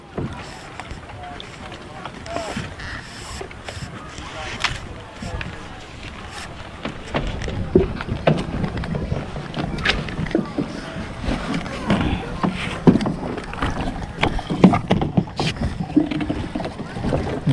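A small fishing boat is out on Laguna Lake in strong typhoon wind. Gusts buffet the microphone while water slaps and splashes against the hull, growing rougher and louder partway through.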